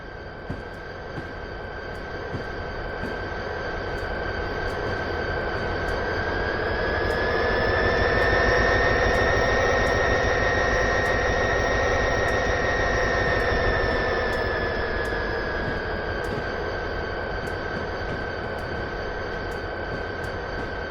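A Metra F40 diesel locomotive's prime mover drones steadily in Train Sim World 3, swelling louder mid-run and then easing back, with a sustained tonal note riding above the rumble.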